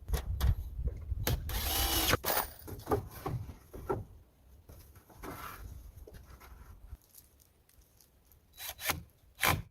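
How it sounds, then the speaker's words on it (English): Wooden boards being hand-sawn to size for a cabin roof outdoors in cold weather, irregular rasping strokes with bursts and pauses, close by. "Each wooden board is now being cut to size and installed at the edge of the roof"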